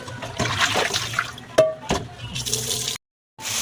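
Raw pork being rinsed under running water, a steady close splashing stream broken by a few knocks and a brief gap before the flow resumes.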